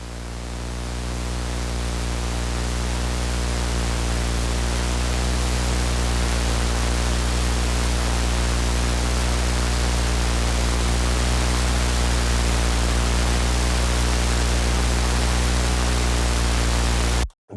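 Super VHS tape static effect with drift on, heat fully up and static nearly maxed, producing a loud, constant broadband hiss layered over a steady low hum, unbroken for the whole stretch before cutting out abruptly at the end.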